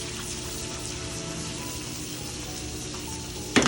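Shrimp and steak juices frying in a pan, a steady close sizzle and crackle throughout, ending with a brief louder burst of spattering.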